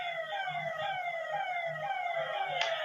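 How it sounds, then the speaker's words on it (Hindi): An ambulance siren wails continuously with a falling pitch as it passes by on a road, loud and steady over a low rumble of traffic. "भैया ये एम्बुलेंस है क्या?"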